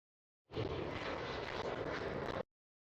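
A KLM Cityhopper airliner at Schiphol airport in Amsterdam gives a two-second burst of broadband engine roar that starts and stops abruptly, loud and steady, with no voices.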